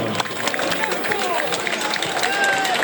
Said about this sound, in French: Et le public, un tonnerre d'applaudissements.